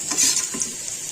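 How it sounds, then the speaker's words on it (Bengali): Ginger and garlic paste hits frying onions in a pan for a winter chicken curry, giving a steady close sizzle with brief stirring scrapes throughout and no talking. "পেঁয়াজটা ভাজা হয়ে গেছে, এবার আমি এর মধ্যে দিয়ে দেবো রসুন আর আদা বাটা"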